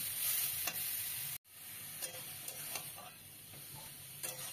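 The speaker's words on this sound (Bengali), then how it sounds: "তেলের ওপরে দিয়ে দিলাম বিটগুলো। কড়াইটা এত গরম হয়ে গেছে যে ধোঁয়া ছেড়ে দিয়েছে।" Beetroot sizzles hard in smoking hot oil in a wok, a bright, loud, continuous crackle with scraping stirs and one brief dropout near the start.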